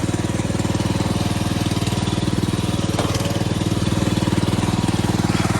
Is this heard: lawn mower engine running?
yes